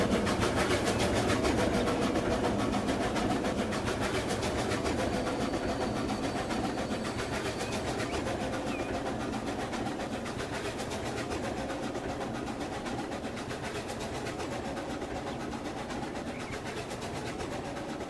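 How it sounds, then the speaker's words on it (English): A steam locomotive in the Transport Fever 2 game chugging steadily and continuously, a dense rhythmic rumble with rapid clattering pulses that holds at an even, loud level throughout. "That's what a steam engine sounds like."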